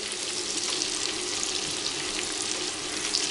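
Mushrooms frying in a pan for soup, a steady dense sizzle with fine crackling that holds evenly throughout, close and moderately loud with no talk.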